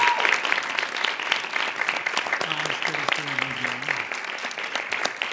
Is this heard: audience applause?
yes